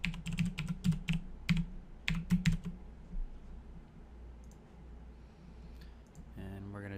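A password is typed on a computer keyboard during setup of a Cisco SG300 small business switch, with quick clusters of close key clicks that give way to quiet and then a short electronic tone.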